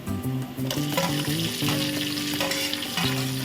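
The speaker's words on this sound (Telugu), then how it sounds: "ఒక పెద్ద సైజు టమాటాను కూడా ముక్కలుగా కోసుకున్నాను ఇప్పుడు ఇందులో వేసేద్దాం" Chopped large tomato hits onions already browned in a hot pan for bagara rice, setting off a loud, steady sizzle with stirring scrapes and clatter over it.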